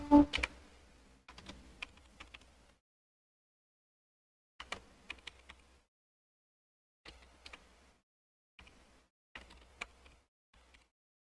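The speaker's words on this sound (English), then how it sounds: "I'm typing A and I'm typing apple." Bursts of quick, light keystrokes on a computer keyboard, close and clear, arriving in short clusters separated by pauses of silence.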